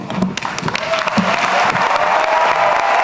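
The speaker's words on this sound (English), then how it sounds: "you can clap one more time" An audience claps in steady, dense applause at a university doctoral commencement ceremony, rising slightly and holding strong through the moment, with a few voices and faint cheers mixed into the crowd sound.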